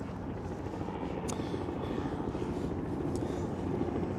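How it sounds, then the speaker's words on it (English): A low, continuous rotor rumble from a low-flying helicopter over Lower Manhattan near the Brooklyn Bridge drones steadily throughout, fairly faint and distant-sounding, with no speech over it. "Ooh, that helicopter is low."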